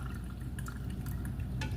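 White wine pours into a glass as a soft, continuous trickle with a few small drips, steady and fairly quiet over a low background hum.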